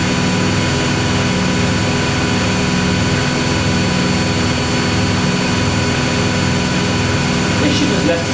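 A Miele W Classic WDA210WPM washing machine runs a fast spin on a Minimum Iron 60°C cycle, a loud, dense, steady whine layered with droning tones and rumble that holds evenly for several seconds.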